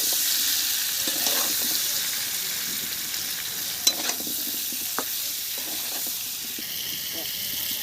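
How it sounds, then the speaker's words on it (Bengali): Cubed potatoes frying in a pan while cooking khichuri with broccoli curry, a continuous bright sizzle with light stirring clatter and a few sharp knocks, no talk heard. "ডিমের মতো ভেজে নেব"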